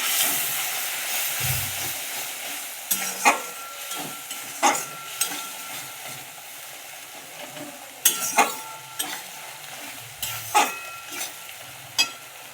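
Egg curry with boiled milk, tomatoes cooked down, being sautéed in a pan: a steady low sizzle with repeated sharp scraping and clinking strokes of a spatula every second or two, close and alone with no talk.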